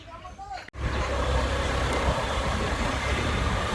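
A scooter motorcycle engine starts up after a brief voice, then runs as a loud, steady, broadband drone close by.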